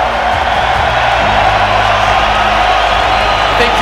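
A dense, steady roar from a London boxing arena crowd, loud and continuous with a few whoops and shouts, cheering a defeated Wladimir Klitschko after Joshua vs. Klitschko.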